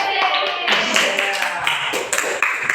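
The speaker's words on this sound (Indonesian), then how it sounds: "ini tepuk tangan dulu pada Edi" A small classroom group claps for a student during a microteaching session, a close, uneven patter of hands with a few sharper individual claps, and some talk mixed in.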